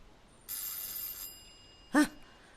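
A home telephone rings once in a short electronic trill, followed by a brief louder chirp, heard fairly faintly in a quiet room.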